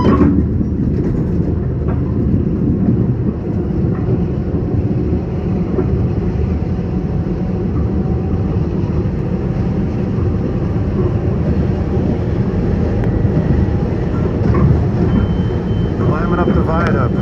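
A Long Island Rail Road express train running from Jamaica toward Babylon gives a loud, continuous rumble of wheels and motors heard from inside, with steady rail noise throughout.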